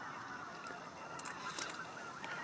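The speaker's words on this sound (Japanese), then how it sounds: "また渡り鳥がすごい、混ぜますね。" Migratory birds, likely geese, honking in short scattered calls from a distance over a steady low outdoor background at a winter campsite, faint and without speech.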